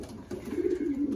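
Stock pigeons coo softly inside a loft, with low, rolling calls that swell and repeat near the listener against quiet background noise.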